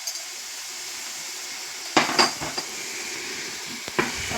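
Masala and turmeric are sautéed for a coconut fish curry, a soft continuous sizzle in the pot broken by a few sharp spoon scrapes and clinks against the metal, heard alone without voices.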